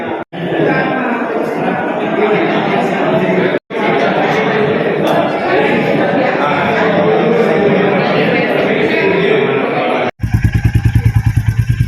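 A new motorcycle's engine rumbles steadily up close beneath crowd chatter and voices at a painting exhibition, cutting out briefly a couple of times before a sharper, pulsing idle at the end.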